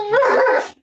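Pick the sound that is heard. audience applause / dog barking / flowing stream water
dog barking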